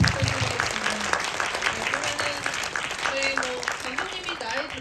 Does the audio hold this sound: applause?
yes